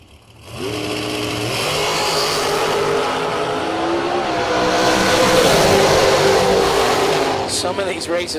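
Drag racing cars launch down the strip in a roaring, sustained engine blast that builds quickly and holds loud for several seconds before the pitch shifts at the end, with announcer commentary running over it.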